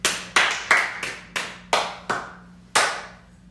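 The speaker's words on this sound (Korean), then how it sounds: "박수." Seven sharp, separate hand claps ring out close by at an uneven pace, each with a short decay, and no one speaks between them.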